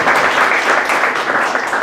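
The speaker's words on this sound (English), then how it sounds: "Let's give our judges a round of applause." Audience applause for a panel of judges at an undergraduate incubator pitch event, a dense, steady clapping from a crowd that holds at even loudness for about two seconds.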